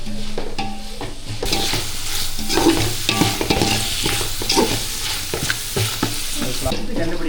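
Onions sautéing in a pan for mushroom dum biryani, a loud close sizzle broken by repeated rhythmic scrapes and clacks of a spoon stirring through the pieces, with no talking.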